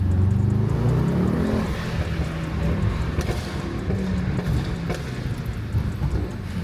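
A car engine revs hard during a pull, its loud low roar rising and holding steady close by throughout, with no voices over it.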